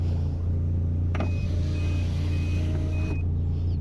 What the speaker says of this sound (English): And now it's making the beeping noise again.